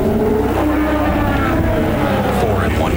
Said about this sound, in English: These cars rolling.